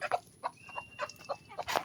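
Several chickens clucking close by in short, irregular bursts, loud and unaccompanied by talk.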